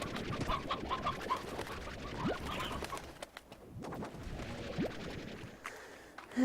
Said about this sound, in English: I heard chickens!